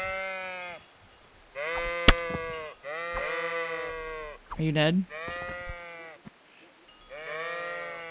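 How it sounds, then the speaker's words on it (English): Sheep in the Kingdom Come: Deliverance video game bleat repeatedly and close by, several drawn-out cries spaced a second or so apart, with one brief voice speaking among them. "Sheep!"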